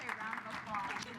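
An audience applauds to welcome a speaker at a talk on short-term medical missions, a brief patch of soft, fairly faint clapping heard from a distance.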